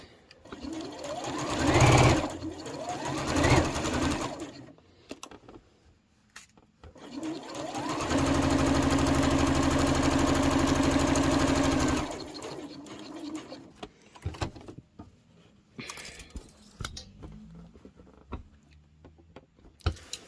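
Sewing machine stitching a fabric book sleeve, a brief run followed by a longer steady close whirring run of several seconds, with quiet handling sounds between runs.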